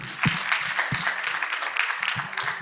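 Audience applause at an international linguistics conference session, a short burst of dense clapping from a room full of people, fairly close and steady for a few seconds with a faint voice beneath.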